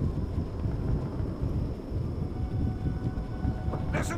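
A thunderstorm in the video game Far Cry 2 gives a steady, loud wash of rain and rolling thunder that fills the whole stretch without a break, with no voices over it.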